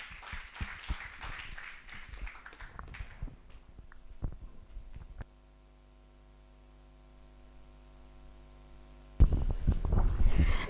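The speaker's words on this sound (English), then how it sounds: "Give a big clap to Nalini." Applause from a public forum audience for a speaker being introduced: scattered, fairly close clapping for several seconds, then a stretch of near-silent electrical hum before a voice starts talking.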